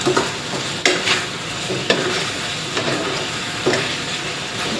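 Salted chicken stir-frying with soy sauce in a pan over medium heat, a loud continuous sizzle with periodic sharp scrapes of the spatula about once a second.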